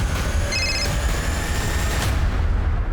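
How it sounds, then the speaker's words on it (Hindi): A telephone gives a short electronic ring of about half a second, partly masked by loud, constant low rumbling noise. "अरे ये फोन के आवाज आ रही कहीं से।"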